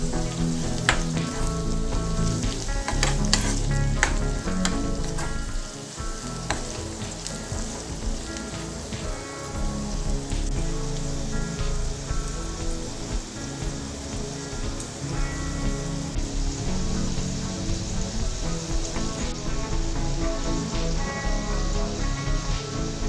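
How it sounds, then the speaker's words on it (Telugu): Chana dal frying in a pan makes a busy, rain-like patter of close crackles and spitting that holds steady throughout, with tonal background music running underneath. "శనగపప్పుని సిమ్లో 5 నిమిషాలు మగ్గనివ్వాలి"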